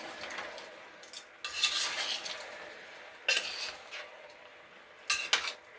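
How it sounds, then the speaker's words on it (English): A utensil scraping and stirring brown sugar into plum cobbler filling in a pan, with irregular bursts of scraping and clinking between quieter moments, close and clear, no talk. "And just mix all that in there real good together."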